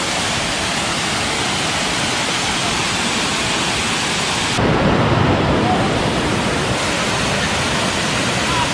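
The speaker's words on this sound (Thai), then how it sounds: "อันนี้ก็เป็นบรรยากาศภายในน้ำตกตาดวังสีครับ" Steady, dense roar of the Tat Kuang Si waterfall near Luang Prabang, Laos, fills the whole clip, loud and continuous, with a brief surge in intensity midway.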